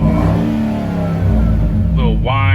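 A $1,000 Range Rover engine with a straight-piped Flowmaster exhaust revs loudly and steadily, its deep rumble rising near the end with a whine and crackle.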